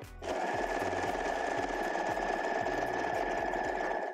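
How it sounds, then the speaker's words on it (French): A sewing machine overlocks the edge of T-shirt fabric, starting after a brief pause and then running loud and steady with a fast, even mechanical chatter and rhythmic low thumps throughout. "Je surfile."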